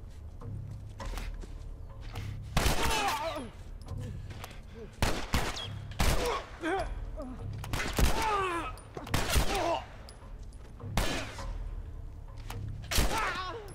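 Bursts of gunfire in The Last of Us video game, several sharp volleys spread across the stretch with short gaps between them, loud and close amid combat sounds.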